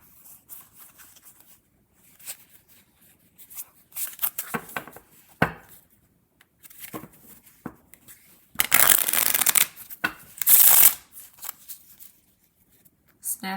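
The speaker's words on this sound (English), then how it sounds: "I'll show you the shuffle of them." Uusi Pagan playing cards being shuffled, with soft riffles and scattered handling taps building to two loud, crisp riffle bursts near the end.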